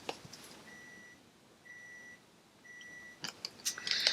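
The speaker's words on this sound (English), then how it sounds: "And I hope they don't hear the microwave beeping." Three evenly spaced electronic microwave beeps ring out at moderate volume in a quiet room, followed by some close clicking and rustling sounds.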